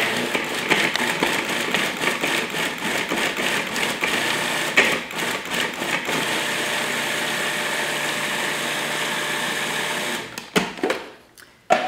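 A blender runs steadily while processing greens, a continuous loud motor whir with slight pulsing, then it winds down and cuts out near the end.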